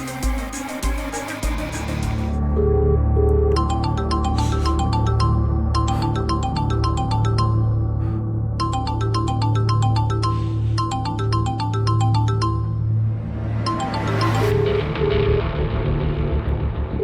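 A mobile phone ringtone plays loudly and close, a repeating electronic melody in regular bursts over a low rumble, with no talk.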